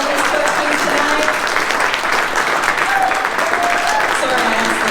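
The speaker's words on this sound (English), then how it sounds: "they actually deserve a really huge round of applause for their honesty, their candor, and answering all these questions tonight" Audience applauds after a Saturday night haunted-attraction panel featuring Nightmare on 13th and other haunt operators, a dense steady wash of clapping filling the room for about five seconds with faint voices beneath.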